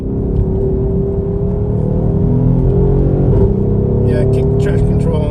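A Mercedes-Benz GLE 63 AMG S Coupe engine drones loudly and steadily from inside the cabin as it accelerates along a twisty road, with a brief chirping sound near the end.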